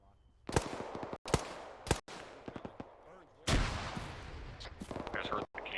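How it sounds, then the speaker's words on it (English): Sharp, heavy booms of cannon fire during a military field training exercise crack out in an irregular series of blasts, some separated by pauses, with voices talking in between. "You guys heard the cannon fire."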